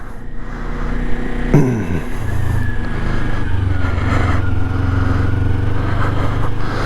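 A Kawasaki Ninja 400 ridden on a road by a beginner, its engine droning loud and steady, with a shift in pitch partway through as the revs change.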